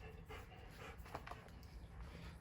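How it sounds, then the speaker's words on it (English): A dog pants quietly and steadily nearby in a garage beside a parked Jeep, its rhythmic breaths rising over a low background hum. "She's a good dog."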